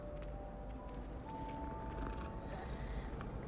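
A cat purrs in Hogwarts Legacy, a soft low rumbling purr repeating steadily, quiet and close, with faint game ambience beneath.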